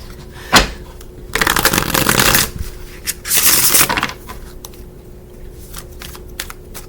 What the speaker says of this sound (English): Anything that pops out of this little flippy cardy thingy, as I'm shuffling